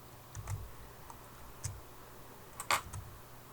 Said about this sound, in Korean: 키보드에서 Ctrl B 컨트롤 플러스 B를 누르시거나